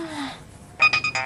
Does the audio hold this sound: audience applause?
no